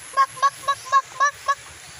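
Ducks give six loud, evenly spaced honking quacks in a steady rhythm, close by and heard on their own.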